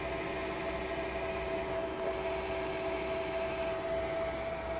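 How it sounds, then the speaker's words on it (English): Rigiva universal milling machine runs at its minimum spindle speed of 25 rpm, giving a steady, even mechanical hum with a constant tonal whine and no talking. "Currently working at its minimum spindle speed, that is 25 rpm."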